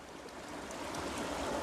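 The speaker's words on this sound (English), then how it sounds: "The clean water is coming out on the white." Water flowing from an ITEHIL portable water filter, a brief continuous close rush of running water with no voices.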